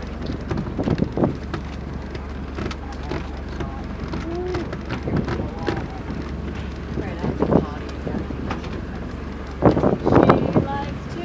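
Wind buffets the microphone over a low steady engine hum on a moving boat in Ho Chi Minh City, Vietnam, while people talk and laugh intermittently nearby.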